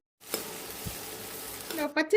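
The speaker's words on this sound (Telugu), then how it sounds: "కొద్దిగా పుదీనా వేస్తున్నానండి అలాగే ఒక గుప్పుడు కొత్తిమీర ఈ రెండు కూడా బాగా వేయించుకోవాలి" Onion, mint and coriander sizzle steadily in a pan for tomato rice, a soft, continuous frying hiss with brief stirring and a voice near the end.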